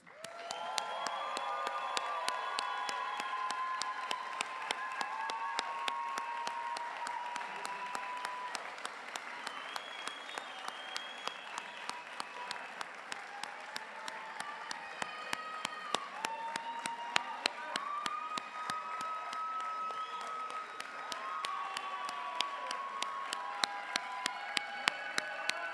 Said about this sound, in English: And let's applaud for the graduates